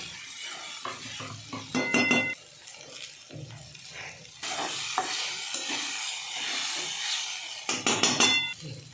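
Sabudana (sago pearls) with salt being stir-fried in a pan, with a spoon scraping and clinking against the metal in bursts over a steady soft sizzle.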